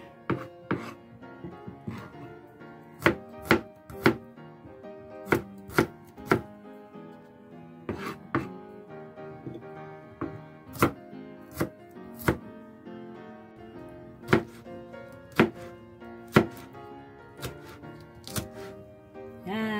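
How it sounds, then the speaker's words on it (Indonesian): Shallots and galangal are roughly chopped on a cutting board, giving sharp knife thunks in quick bursts with short pauses between them, close and clear over a quiet background. "Pertama kita akan iris-iris kasar ya bawang merah dan lengkuasnya."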